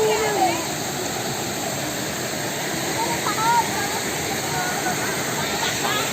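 A river rushes loudly and steadily close by, a dense wash of flowing water at a secluded swimming spot, with people talking under it.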